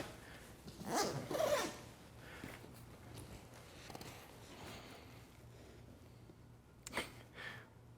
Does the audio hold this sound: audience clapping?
no